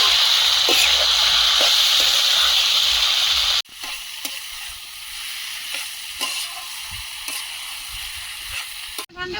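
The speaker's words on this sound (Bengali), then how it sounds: "মাংসটা দিয়ে দেবো মশলার সঙ্গে ভালোভাবে মিশিয়ে নেব" Meat sizzles and fries with spices in a pan, a loud steady hiss for the first few seconds that drops to a quieter crackle with occasional stirring.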